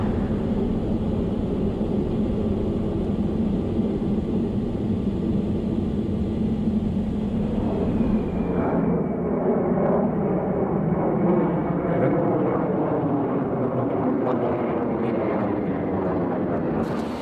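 An airliner climbing out after takeoff gives a steady, loud broadband engine roar with a faint whine that shifts partway through, continuous and close with no voices.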